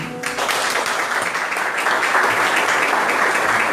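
Audience applause at a church event, a dense, sustained wash of clapping that starts after a brief spoken moment and holds steady and loud to the end.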